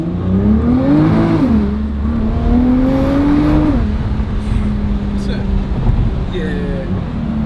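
Engine of a 2019 Nissan GT-R revving hard as the car accelerates, pitch climbing in long sweeps and then dropping back, heard from inside the cabin with a steady low drone and a voice talking over it.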